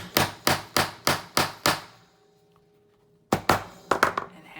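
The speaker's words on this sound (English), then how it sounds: "and hammer it flat" A hammer strikes metal eyelet hardware on a steampunk journal cover, five sharp, evenly spaced blows, a pause, then a few more quick hits, loud and close.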